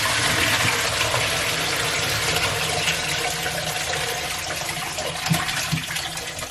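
Running water rinses salted cabbage for kimchi, a steady rushing stream with occasional splashes and knocks, close and continuous.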